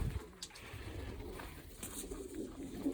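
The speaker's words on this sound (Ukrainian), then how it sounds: "Це голубеня." A young pigeon squab coos softly nearby in faint, low murmuring calls against a quiet background with light rustling, no talking.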